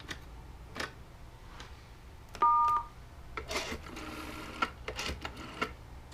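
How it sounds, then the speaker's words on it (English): A short, clear intercom telephone dial tone sounds for about half a second amid scattered clicks and mechanical clatter. "There's a dial tone right there."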